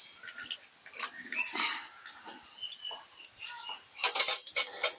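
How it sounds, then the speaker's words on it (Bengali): Potatoes stirred in a pot of hot water for crispy fence fries, with clattering and scraping of a utensil against the pot in uneven bursts, sharper clinks toward the end. "দিয়ে ভালোভাবে আলুগুলো নেড়ে দেব।"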